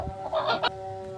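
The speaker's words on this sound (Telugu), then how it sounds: "వీడియోలో కనిపిస్తుంది నెమ్మెల పింగళ పుంజు" A Bhimavaram rooster of the Nemali Pingala breed, fifteen months old and two kilograms, gives a short, close, hoarse cluck-like call lasting under a second over faint background hum.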